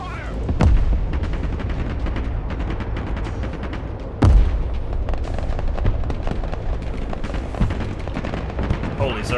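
Gunfire and artillery from a Broken Arrow battle on an airbase, with two heavy booms and continuous rattling shots, loud and close, as voices call out over the fighting.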